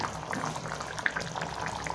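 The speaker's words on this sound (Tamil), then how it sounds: "தேங்காய் ஊற்றி கொதிக்க ஆரம்பிச்சிருச்சு" Steady bubbling and simmering of a thick tomato-and-coconut curry in a pot, a soft continuous burble with occasional small pops, close by.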